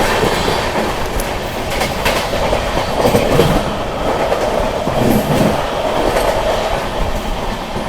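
A long-distance express train, the 12398 Mahabodhi Express, runs through a station at speed, with a steady loud rumble and rail clatter. A few sharp wheel clicks sound along the way. No one speaks.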